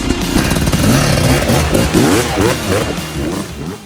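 An enduro motorcycle on a riding trip in Portugal passes close by, its engine loud and revving steadily with gritty clatter, then easing off slightly as it moves away.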